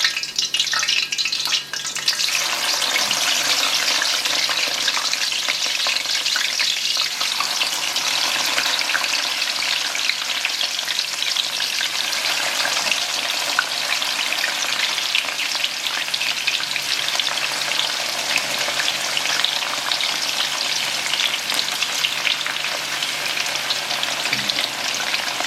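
Potato chips fry in oil in a wok, a steady dense sizzle that stays loud and close from start to finish with a faint watery crackle and no talking.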